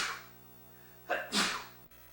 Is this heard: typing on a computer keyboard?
no